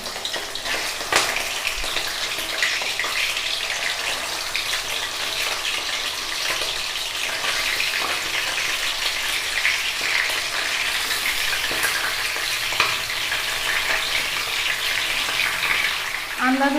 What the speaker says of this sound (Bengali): মাংসটা আমরা ভেজে নিব